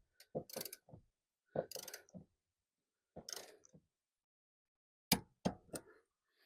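Truck seat riser bolts tightened to 27 foot-pounds, heard as four short, close bursts of ratcheting clicks separated by silent gaps.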